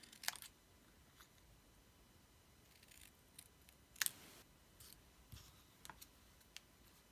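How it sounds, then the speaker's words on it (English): Scissors snip out paper words in short, faint, crisp clicks, scattered irregularly across a quiet room with no talking. "I just cut each of the words out"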